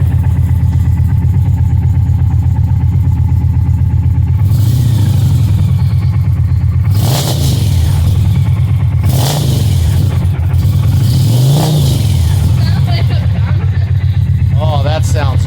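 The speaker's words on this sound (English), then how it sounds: "that is a much lower rumble" 2023 Indian Challenger motorcycle with a Lloyd's slip-on exhaust idling with a low, loud rumble, then three sharp rev blips that rise and drop back, recorded close with a person's voice briefly over it.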